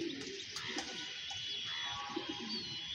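Pigeons in a new loft, soft cooing and chirps faint against a steady background hiss, with a few brief bird calls over about three seconds.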